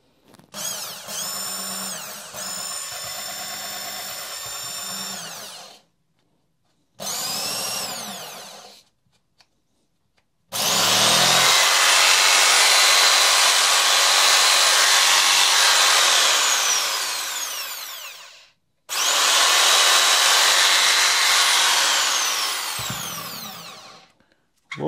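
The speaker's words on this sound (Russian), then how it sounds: "Лобзик работает" A Makita 4329 jigsaw runs at its lowest speed setting in loud, close bursts of steady whining motor noise, each lasting several seconds and separated by short silences as it is switched on and off.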